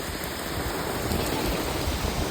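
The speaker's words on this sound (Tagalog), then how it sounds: "Pumuti yung ulan, no?" Heavy rain pours steadily onto a tent at a mountain campsite, a dense, unbroken hiss that holds at the same level throughout with no voices over it.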